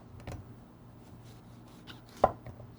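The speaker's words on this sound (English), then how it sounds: "Now we're going to start chopping our vegetables for our salad." Knife chopping a red bell pepper on a cutting board for a quinoa salad: a few sparse, sharp cuts, one louder strike near the end, close and otherwise quiet.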